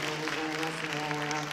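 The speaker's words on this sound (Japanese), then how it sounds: "もう一度大きな拍手をお願いいたします" A brief burst of audience clapping after a yosakoi dance performance at a dance group's 20th anniversary event, heard over strong sustained tones.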